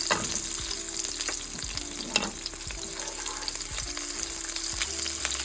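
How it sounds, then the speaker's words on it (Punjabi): Whole spices roasting in a hot pan for paneer lababdar gravy, a steady close sizzle and crackle with occasional scrapes and knocks of stirring, no voices. "ਆਪਾਂ ਇਹਨੂੰ 15 ਤੋਂ 20 ਮਿੰਟ ਭੁੰਨਣਾ ਮਸਾਲਿਆਂ ਨੂੰ"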